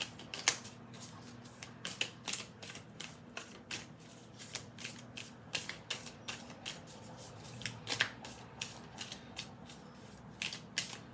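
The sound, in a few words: shuffling oracle cards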